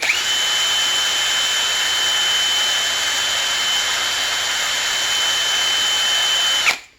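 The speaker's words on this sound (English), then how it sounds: "let's give it a quick polish again" A power tool polishes a snowmobile spindle from a 2002 Arctic Cat ZR 800 with Blue Magic polish, giving a steady, loud, high-pitched whirring whine that runs unbroken for several seconds before spinning down abruptly at the end.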